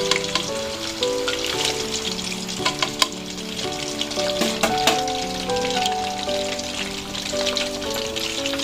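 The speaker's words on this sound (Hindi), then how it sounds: "इसे हमने पहले फ्राई करना है इसी तरीके से, बस हल्का हल्का सा फ्राई कर लेना है" Chicken frying lightly in hot oil, a steady close sizzle with crackling spatters and a few sharp pops throughout, no talking.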